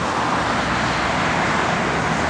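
A 1964 Ford Falcon Sprint's engine runs steadily at idle, a dense, even rumble held at constant loudness throughout with no talk over it.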